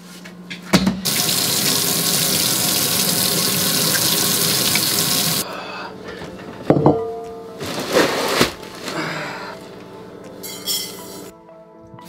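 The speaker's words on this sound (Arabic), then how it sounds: "اول شيء نغسل الرز" Rice washed by hand under a running kitchen tap, a steady loud hiss of water lasting several seconds, then stopping and giving way to clatters, splashes and scattered handling noises.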